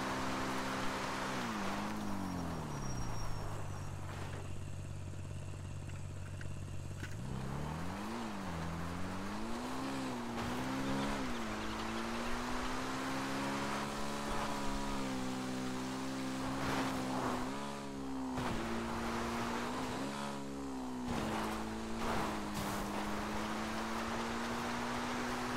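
A motorcycle engine in GTA V on Cayo Perico drones continuously, its pitch climbing and falling as the bike accelerates and eases off, with brief dips and surges over roughly twenty-five seconds.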